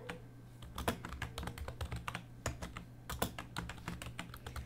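Form details typed on a computer keyboard, a brisk run of close, crisp key clicks with an uneven rhythm and brief pauses over a steady low hum, with no talking.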